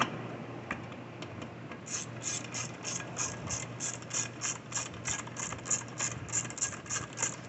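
A ratchet tightens 8mm carburetor bolts on a Troy-Bilt TB110 mower with a Briggs 550EX engine, giving a quick even run of clicks that grows louder toward the end, close and alone.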